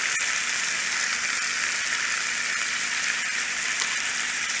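Chopped tomato sizzling in a hot pan for chicken biryani, a steady, loud crackling fry with no talk.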